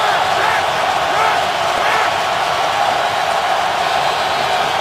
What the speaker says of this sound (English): Crowd is energized.